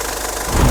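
Diesel idle of a 2006 Ford Ranger Cab with the 2.5-litre TDCi common-rail engine, a close, loud knocking rumble that swells in the last moment.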